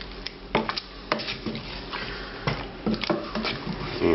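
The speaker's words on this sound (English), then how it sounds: "we can finally add the lamb that was cut up into this" Cut pieces of lamb go into a simmering bhuna curry in a restaurant-style kitchen: irregular wet squelches, soft plops and light clinks of a utensil against the pot, close and fairly quiet, with no talking.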